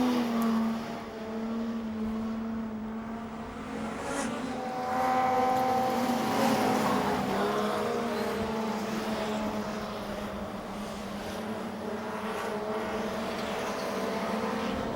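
Modified production race cars, including a Zephyr and a Vauxhall, lap Maryborough Speedway in a continuous, moderately distant engine drone that swells and fades as cars pass.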